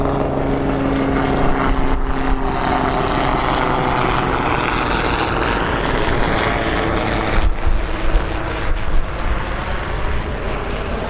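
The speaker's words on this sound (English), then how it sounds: "there's some black helicopter flying overhead" A black helicopter flying overhead outdoors, a steady loud engine and rotor drone that holds throughout with slight swells, heard alone without talk.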